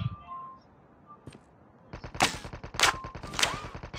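Gunfire in the Call of Duty Mobile game: after a quiet stretch with a lone shot, rapid automatic bursts break out, loud and close, with several sharp volleys over the last two seconds.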